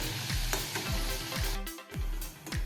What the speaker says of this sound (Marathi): अशा प्रकारे आपण सर्व पुऱ्या तळून घेऊया